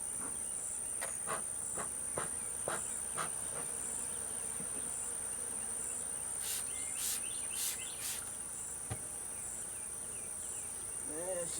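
Honey bees from new colonies buzz steadily around an open hive as brood frames are lifted and inspected, a dense close insect hum with brief higher whines of bees passing near, sometimes under a quiet voice.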